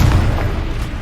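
A Confringo fire spell explodes in Hogwarts Legacy, a loud booming blast with a low rumble that hits at once and then fades, with no talk over it.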